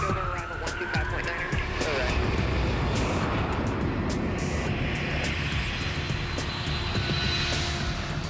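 Jet engines of a heavy Lockheed C-5 Galaxy military cargo plane roar steadily at close range with a dense, continuous rumble and a high turbine whine that holds throughout.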